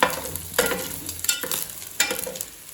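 Prawns frying in a pan for fried rice, a steady close sizzle with scraping stir bursts at irregular moments, no voices.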